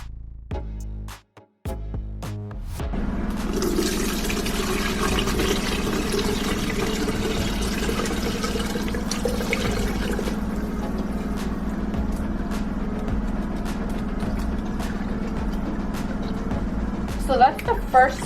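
Cold brew coffee poured through a big strainer, a sustained splashing liquid flow that begins after a few brief knocks and continues steadily under intermittent talking.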